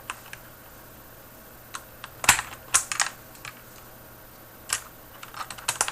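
A mechanical keyboard with Cherry Black linear switches is typed on in short bursts of crisp, close keystroke clacks over quiet background hiss, with some sharper, louder presses.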